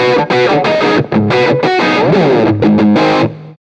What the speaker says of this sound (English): So this is a little more in-your-face lead, a little drier sounding than with the reverb and the multi-delay on.